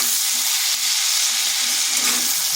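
Salted potato pieces fry over medium heat in a pan while being stirred, a dense, steady sizzle that stays loud and close, with no talking.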